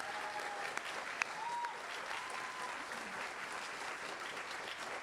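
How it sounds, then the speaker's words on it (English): An audience claps in sustained applause after a lecture on the music of mathematics, a steady dense patter of many hands heard from a distance at moderate volume, with a faint voice briefly audible. "Let's just give them one more round of applause."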